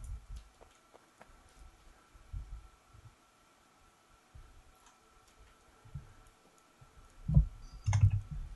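Computer keyboard typing, sparse quiet clicks scattered across the clip, ending in a louder cluster of close, rapid keystrokes.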